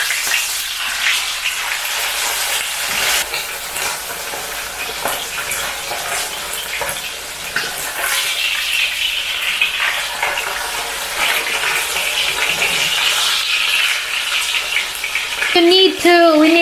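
Cornstarch-coated pork sizzles and spatters steadily in hot oil, a loud continuous crackle that runs throughout, with a sharper burst of activity near the end.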